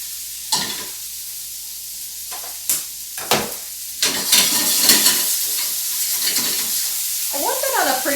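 Onion and pineapple go into hot oil in a hot pan over a high flame, with a sharp sizzle bursting up and settling into steady frying, broken by stirring knocks, and a voice speaking briefly near the end.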